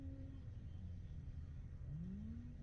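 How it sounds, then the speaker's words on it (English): A Pro R off-road race car engine winds up far away on a 2-mile qualifying course at the Crossbar race, a faint rising drone over low ambient rumble. "you can really hear that car from a long ways away"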